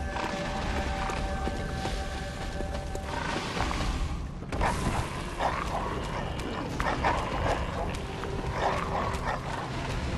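Beastly dogs in Bloodborne's church area give off growls and barks over a steady rumbling game ambience, with a louder burst of noise midway.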